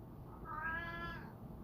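A Siamese cat gives a single drawn-out meow lasting about a second, fairly faint and heard alone with no talking.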